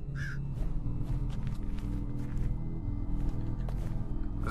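A bird in a maze video game gives a series of harsh crow-like caws over a low, busy game soundscape, loud and close with no talk.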